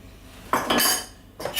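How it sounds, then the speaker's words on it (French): A fork beats eggs for an omelette in a bowl: short bursts of quick metallic clinking and scraping, close and fairly loud, with a pause between the strokes. "Je commence par battre mes œufs en omelette."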